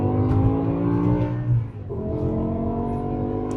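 A car with a dual-clutch transmission accelerates hard, its engine note rising steadily in pitch, dropping briefly at a quick gear change, then climbing again, loud and close from inside the cabin.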